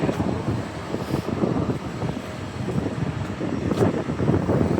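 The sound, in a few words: wind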